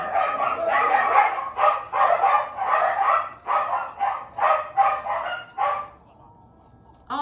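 Dogs bark in a room, a long run of loud, close, repeated barks in bursts that fade to quiet near the end.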